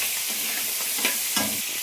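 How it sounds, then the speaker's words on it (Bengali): Crab pieces fry in hot oil with fried garlic in a pan, a continuous close sizzle with two brief scraping stirs near the end. "এবার কাঁকড়াটাকে দিয়ে আবার একটু ভেজে নেব"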